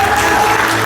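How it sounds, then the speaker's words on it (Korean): Warm applause from the audience at a book launch for an author and provincial council member, a loud, dense moment of clapping filling the whole short span. "저자 안정환 도의원께 다시 한번 뜨거운 박수 한번 좀 부탁드리겠습니다"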